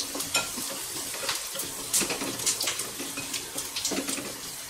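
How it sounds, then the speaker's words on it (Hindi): Whole coriander seeds, a tablespoon, dropped into hot oil with garlic and ginger while making spiced parwal sabzi, sizzling and crackling steadily close by with brief stirring scrapes, no talking. "अब मैं इसमें डालूंगी खड़ा धनिया 1 बड़ा चम्मच।"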